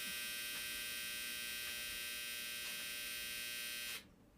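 A running clothes dryer makes a faint, steady electrical hum with a faint buzzing drone, continuous until it drops away near the end.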